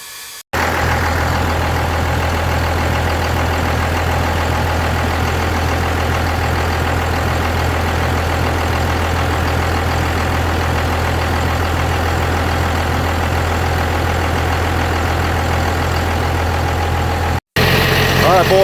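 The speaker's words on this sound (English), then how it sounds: "we got the truck pretty much warmed up" A Cummins 12-valve diesel truck idles while warming up, giving a steady, close, continuous low rumble that runs without a break for most of the clip.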